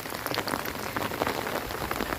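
Rain pours steadily during a storm at a lift-net fishing spot, a dense, even hiss of drops hitting surfaces, close and unbroken, with no voices.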